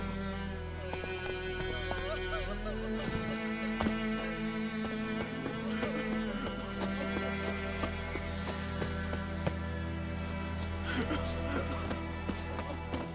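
A horse gallops in The Witcher 3, its hoofbeats forming a steady, continuous clip-clop rhythm throughout, set against dense game music and ambience.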